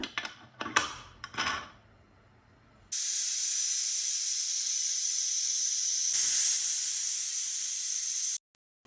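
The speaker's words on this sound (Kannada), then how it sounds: "ನಾನಿಲ್ಲಿ ಒಂದು ಎರಡರಿಂದ ಮೂರು ವಿಷಲು ಬರೆಸ್ಕೊಂಡಿದ್ದೀನಿ" A pressure cooker full of ridge gourd lets off a loud, sustained, high-pitched steam whistle and hiss lasting several seconds, then cuts off abruptly. A few close metallic clanks come just before it.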